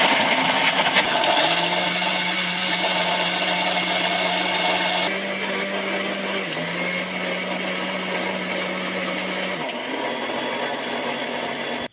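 A mixer grinder blends raw mango with a little cold water into paste, a loud steady motor whir running continuously with a brief dip midway and a drop in pitch near the end.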